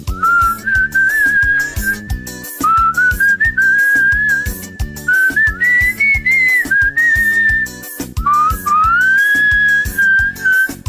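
Someone at a home barbecue whistles a clear, wavering melody close by, the tune rising and falling in phrases over a steady rhythmic backing for about eleven seconds.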